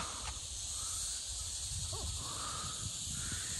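Outdoors near a cattle shed in the countryside, a faint bird call rises once over a steady hiss of insects, with a few softer calls in the distance.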